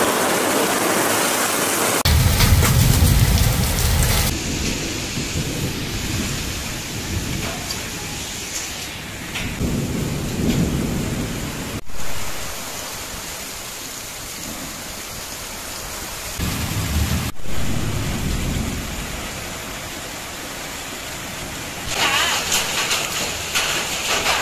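Hailstorm with heavy rain and thunder in Sivaganga: a loud continuous roar of falling rain and hail, with low rumbles swelling and fading and a couple of sharp cracks.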